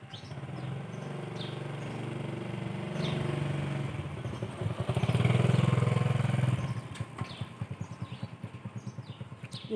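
A vehicle, likely a motorcycle, approaching outdoors, its engine rising from faint to a close, louder hum and then sputtering in rhythmic pulses, with birds chirping in the background.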